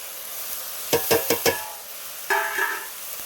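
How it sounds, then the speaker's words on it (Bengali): Spice paste with ginger-garlic paste and tomato is stirred in a hot pan: four quick, sharp scraping strokes in a row, a pause, then one longer stir over a faint sizzle. "মশলাটা ভালো করে একটু কষিয়ে নেবো"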